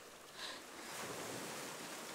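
Sea waves wash against the shore in a soft, continuous rush with some wind noise, faint and distant-sounding, with no voices.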